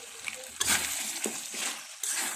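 Potato frying and being stirred together with beef tongue and head meat in a pot: a steady sizzle with scraping stir strokes at intervals, close and moderately loud, with no talk.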